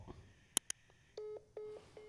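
A phone number is dialled on a mobile phone, giving a quick series of short touch-tone beeps, then steady ringback tones in a quiet room.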